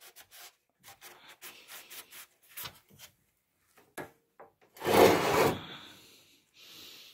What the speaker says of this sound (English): you can see how clean it's coming just by me wiping on it